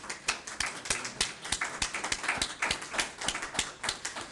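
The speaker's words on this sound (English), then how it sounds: "I think they would appreciate a round of applause" A small group at a town hall meeting on a landfill consent order claps, sparse and fairly quiet, with individual claps distinct in a loose, uneven rhythm.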